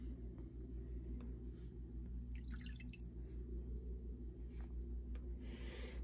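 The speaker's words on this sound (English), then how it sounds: "So that's about 10 milliliters. I'll add that in." Ten milliliters of nutrient liquid for a hydroponic reservoir pours into water, making soft drips and a brief trickle over a low, constant rumble, faint and close.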